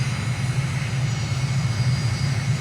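Steady drone of an aircraft engine from a plane on final approach and landing in Microsoft Flight Simulator at Libreville, Gabon, with gear and flaps down; a continuous low hum, loud and even, with no talk.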